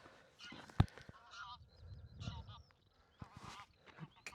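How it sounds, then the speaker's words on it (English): Geese honk repeatedly at a distance, several overlapping calls, faint against a quiet outdoor background in the North Pennines hills with an occasional soft knock. "Geese."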